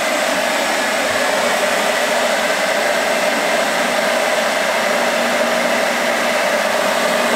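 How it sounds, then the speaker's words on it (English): A hair dryer blows hot air onto a plastic goose decoy, a steady, loud whooshing hum that holds unchanged from start to end, close by and with no speech. "And then back to the hair dryer."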